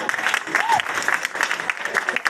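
An audience claps at a dubbing convention panel for classic cartoons at Dublacon 2022. The applause is steady and moderate, with a brief vocal whoop or cheer rising through it.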